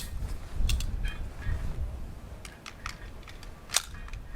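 Shots from an Inglis P-35 pistol at a range, a series of sharp, fairly distant reports spaced irregularly over a few seconds against low background rumble, with no talking.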